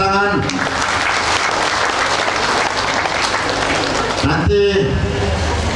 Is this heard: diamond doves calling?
no